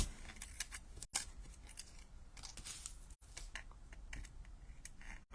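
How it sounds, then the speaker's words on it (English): Scissors snip through card stock for handmade cards, giving a run of quick, close, crisp cuts in an uneven rhythm, fairly quiet overall. "I'm just using my scissors there because they're a little bit fine"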